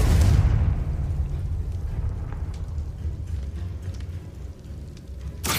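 A Confringo fire spell in Hogwarts Legacy lands with a loud, booming blast, followed by a long rumbling roar that slowly fades.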